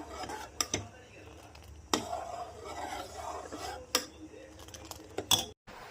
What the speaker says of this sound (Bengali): এখানে এটা নাড়তে হবে।